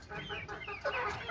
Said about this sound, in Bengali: আমার সেই কক মুরগিগুলো, সাদা কক মুরগি